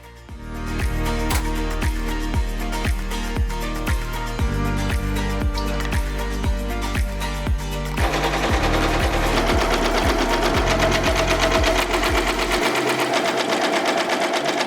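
An embroidery machine stitches a hanging quilt, its needle thumping in a fast, steady mechanical rhythm that shifts to a quicker, smoother whir partway through, loud and close with no voices.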